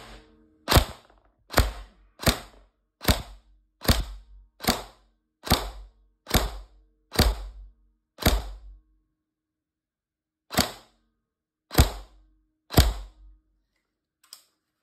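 A Tokyo Marui HK416D NGRS airsoft gun fires single shots over a chronograph. Sharp, close, evenly spaced cracks come in a run of about ten, then a pause, then three more, with quiet between them.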